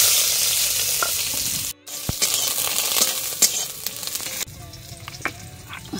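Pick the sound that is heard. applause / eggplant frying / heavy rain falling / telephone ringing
eggplant frying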